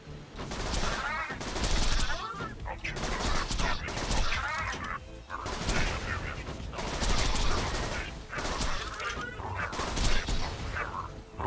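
Busy Borderlands 2 combat with Hornet pistol gunfire: continuous bursts of rapid shots and chaotic effects, fairly loud and steady throughout, with no clear pauses.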